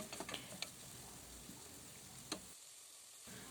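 Peas, a small pepper and sliced olives fry in a pan with a soft, steady sizzle, broken by a few light clicks and stirring taps, quiet and close, with no talking.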